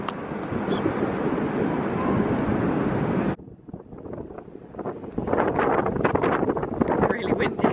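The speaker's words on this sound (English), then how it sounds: "It's really windy up here." Strong wind buffets the microphone atop the Rockefeller Center observation deck, a loud continuous rushing roar that drops briefly then gusts back up, with voices faintly underneath.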